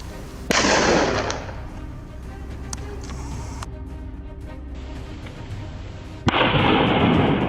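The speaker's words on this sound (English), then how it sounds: "I steadied my breath, raised the rifle, and fired" A rifle fires at a wild boar on a farm hillside: a sharp, loud blast with a rushing tail, then quieter rumble, and a second burst near the end.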